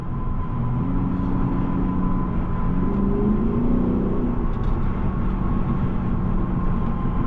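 A 2016 Lexus GS F sedan driving and accelerating, its engine giving a steady loud drone with a rising tone midway, heard from inside the cabin with no talk.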